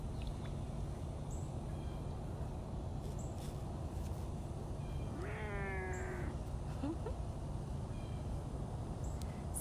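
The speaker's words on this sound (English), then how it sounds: "So Beecher's a Savannah cat" A Savannah cat, a domestic cat and African serval hybrid, gives one drawn-out yowling meow midway through, moderately close, over a constant broadband outdoor hiss with no talk.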